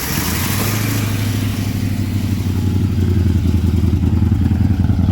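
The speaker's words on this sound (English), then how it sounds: "I can actually hear the exhaust now, so it's sounding better." A 1972 Plymouth Duster's 318 V8, revived after 25 years idle, revs loud and close with a rough, pulsing exhaust burble that builds steadily.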